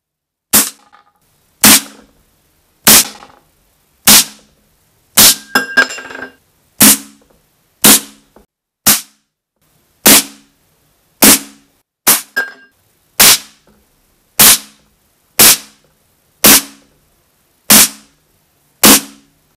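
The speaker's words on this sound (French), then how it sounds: "Je vais tirer avec le XM1 à 10 mètres." A Stoeger XM1 air rifle in 5.5 calibre, 20 joules, firing pellets at caps 10 metres away: sharp loud reports at a steady pace of about one every 1.2 seconds, roughly sixteen shots, a few with an extra crackling snap.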